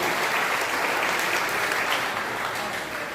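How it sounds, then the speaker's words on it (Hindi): An audience at a Hindi poetry gathering in Sitapur claps steadily and loudly for about three seconds, a dense, even wash of applause with no pauses. "आइए एक बार ताली बजा दीजिए।"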